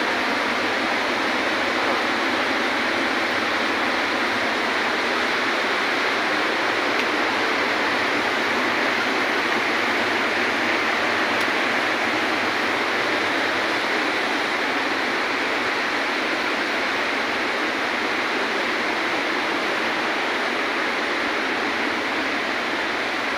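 Rushing water at Wawa Dam roars in a continuous, dense hiss, loud and unbroken throughout with no other sounds standing out.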